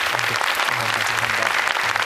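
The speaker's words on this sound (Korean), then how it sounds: "세상을 변화시키는 아름다운 공유와 만남을 꿈꾸는 한상현 멘토께 여러분 뜨거운 박수 부탁드리겠습니다." Sustained applause from a talk concert audience welcoming a speaker, dense steady clapping filling the room for the whole stretch, with a faint murmur of voices beneath.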